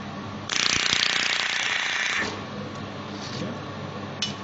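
A 500W handheld laser pen welder joining metal gives a loud steady hissing buzz for nearly two seconds, then stops, leaving quieter background noise with a few faint clicks.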